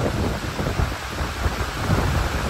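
A sudden storm on the Arabian Sea beside a ro-ro ferry terminal: strong wind roars continuously with heavy rain, a loud, unbroken blustery rush with no voices.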